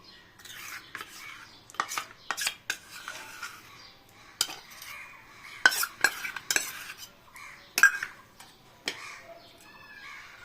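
Ground red lentil paste being mixed with ginger, cumin and chili pastes for Bengali dhokar dalna, giving a series of close scraping and tapping stirs in an uneven rhythm, fairly quiet with no talking.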